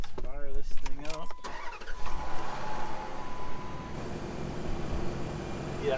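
An all-wheel-drive car's engine starts after a few seconds of nearby talking, then settles into a steady rumbling idle that fills the rest of the clip.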